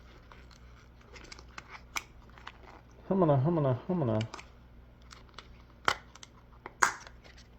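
Crinkly plastic rustling and crackling close by as a small bag of fly-tying supplies is handled and opened, with a short stretch of speech in the middle.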